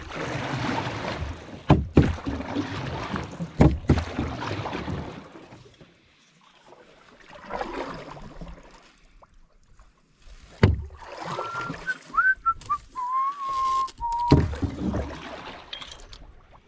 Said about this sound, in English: we'll get back in the boat just now and get out for a paddle.